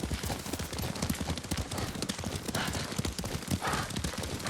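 Horse hooves clip-clopping at a steady riding pace in the video game Ghost of Tsushima, a continuous rhythmic clatter heard close up with no talk over it.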